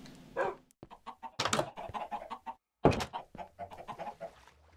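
Chickens cluck and squawk in short, repeated bursts in Minecraft 1.14. The clucks are fairly loud and close, with brief gaps and pauses between them.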